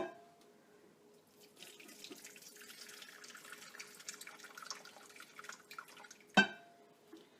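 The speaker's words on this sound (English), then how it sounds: "We're going to drain right into this bowl." Liquid from a slow cooker crock drains into a bowl, a soft continuous trickle and pour lasting several seconds, ending in a sharp clunk near the end, heard alone without talk.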